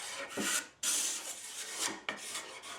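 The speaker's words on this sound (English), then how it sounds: "The extra heavy burr does a great job of stripping off old paint and finish." Card scraper with a heavy burr dragging across wood to strip old paint and finish, three rasping strokes in a row, close and fairly loud with short gaps between.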